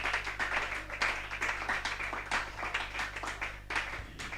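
A church congregation claps and acclaims together in steady, rhythmic bursts, a moderately distant wash of applause and voices over a low hum.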